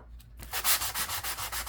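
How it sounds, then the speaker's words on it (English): A sanding block or sanding sponge scrubs across a printed game card to strip its color. It makes rhythmic, close, raspy back-and-forth strokes, about five or six per second, with no talking. "This is our old friend sanding block or sanding sponge."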